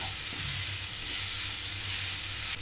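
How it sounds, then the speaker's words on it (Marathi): Grated beetroot bhaji stir-fried in a pan gives a loud, steady, hissing sizzle that runs unbroken, close up and without voices. "आता आपण छान परतून घेऊया"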